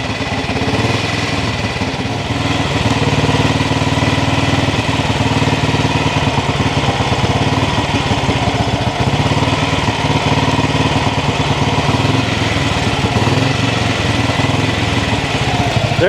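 The engine of a 1959 Ariel Red Hunter motorcycle, which has no ignition switch, runs steadily at idle with a loud, close, continuous rapid thumping throb that does not change.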